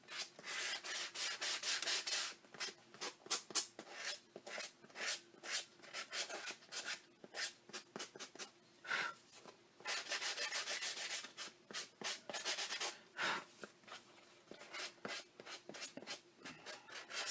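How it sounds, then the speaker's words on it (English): Sandpaper rubs back and forth along the edges of a wooden portrait frame kit piece, a dense run of rasping strokes in bursts with short pauses, close and moderately loud, no talking. "Now we're going to sand the edges of C."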